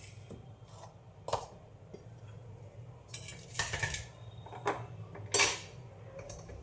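A kadhai (wok) set down on a kitchen stove, with a few sharp metallic clanks and clinks spaced out over quiet background hum, near and fairly soft.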